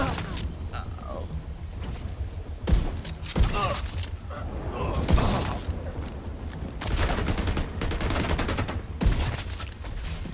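Dense automatic gunfire from a PvE firefight in The Division 2, with rapid bursts and sharp shot peaks over steady combat noise and a voice speaking during the exchange.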